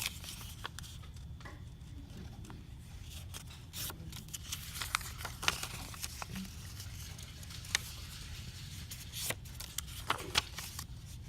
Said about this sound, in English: So fold each card along the solid line.